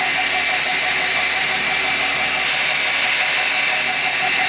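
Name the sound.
slack belt grinding a knife blade, 600 grit Norton Trizact belt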